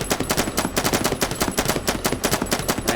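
Rapid automatic gunfire from the video game Madness: Project Nexus, a steady, evenly spaced stream of loud shots that never pauses.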